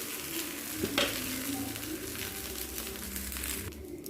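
Dosa batter sizzling on an oiled non-stick pan, a steady close hiss with a brief scraping sound near the start and a low background hum underneath.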